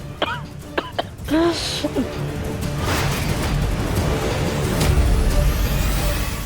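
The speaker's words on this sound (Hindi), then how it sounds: "हमने तुम्हारी खांसती हुई आवाज बाहर तक सुनी" A woman gives a few short, close coughs and throat-clearing sounds in quick succession, followed by a steady rumbling background noise.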